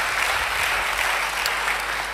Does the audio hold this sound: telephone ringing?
no